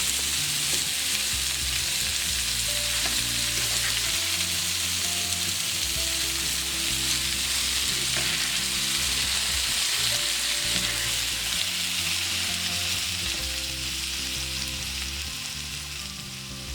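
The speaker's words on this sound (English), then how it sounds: "I'm just going to put a bunch of these in the pan and let them cook up." Chicken pieces frying in a pan sizzle and crackle steadily and loudly at close range, with occasional stirring and no voices.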